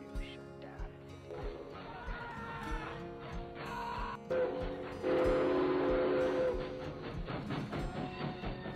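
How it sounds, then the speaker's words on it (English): A distant train whistle sounds as a sustained tone lasting a couple of seconds midway, set under a narrating voice and a background music bed. "a train whistle blew in the distance."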